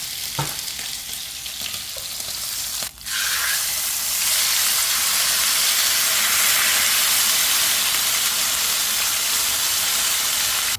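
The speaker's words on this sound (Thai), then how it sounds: "ย่างตรงกระทะแล้วทีนี้ก็จะมาทำให้เขาสุกข้างในนะคะ" Loud, continuous sizzling of a marinated pork steak searing in a hot pan, a dense hiss that jumps up after a brief clatter and holds steady.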